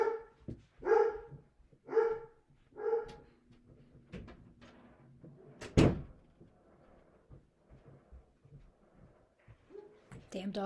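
Several dogs bark in a run of loud, evenly spaced woofs near the start, followed by a sharp door slam, then quieter speech.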